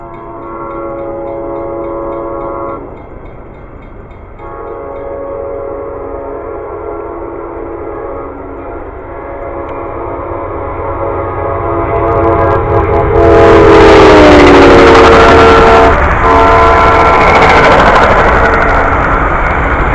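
An Amtrak train rumbles steadily nearby, its horn sounding in long sustained blasts, then grows louder as it rushes past with clattering noise.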